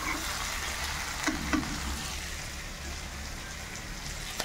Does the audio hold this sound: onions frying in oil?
yes